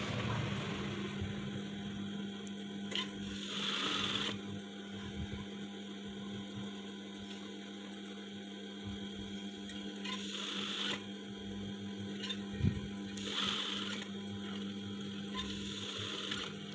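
Sewing machine stitching a front button placket, running in several short bursts of rapid mechanical chatter separated by quieter pauses, close and fairly faint with a steady hum underneath.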